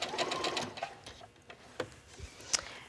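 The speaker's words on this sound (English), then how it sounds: "I'm going to start right in the center and just sew all the way down with this really long stitch" A sewing machine runs a long straight stitch down fabric, a rapid close mechanical ticking and whirring that pauses briefly before starting again, with no talking.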